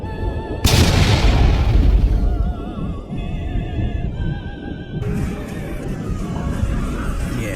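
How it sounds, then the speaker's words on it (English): A huge explosion bursts in with a sharp, loud boom, then rumbles and decays over several seconds beneath lingering tonal effects. "The explosion had been so violent that it would even disintegrate a few more planets."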